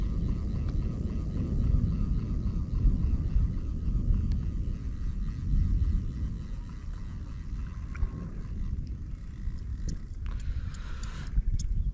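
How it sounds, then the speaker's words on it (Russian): Thunder rumbling during a storm over the Ili River, a low continuous rolling roar that stays loud and steady throughout, with no voices. "Офигеть, гром."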